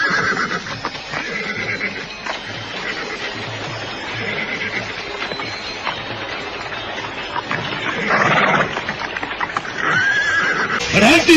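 Horses in a setting with soldiers on horseback, whinnying loudly several times over a steady clip-clop of hooves, with a rising neigh near the end and faint voices mixed in.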